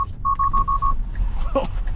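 A Tesla's alert chime warns the driver during a Full Self-Driving drive near Houston: a quick string of five or six evenly spaced electronic beeps over low road rumble, followed by a brief voice.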